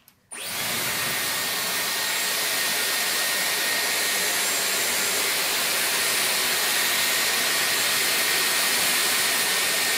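A Dyson Airwrap hair styler switches on and blows hot air at maximum heat, a steady loud whooshing whine that starts abruptly and holds unbroken, close by, with no talking.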